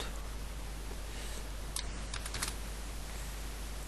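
Code being typed on a computer keyboard, heard as a brief cluster of quick key clicks midway, faint against a steady background hum and hiss.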